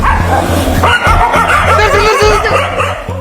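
Loud, rapid dog barking and yipping continues without pause, close up, layered over a steady low droning background.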